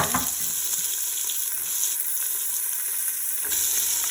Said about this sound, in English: Now that that's all nice and crispy, we're going to add the onion to the pan.